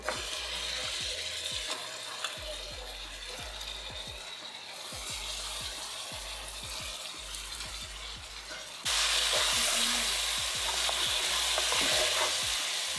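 Meat goes into a hot pan with bay leaves and whole garam masala, raising a steady, loud sizzle broken by rhythmic scraping stirring strokes; the frying surges noticeably louder partway through.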